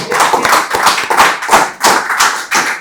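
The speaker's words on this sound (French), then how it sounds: "On applaudit." An audience at a live lottery draw show claps in a steady, rhythmic beat, with sharp regular hand strikes close and fairly loud, keeping time for several seconds.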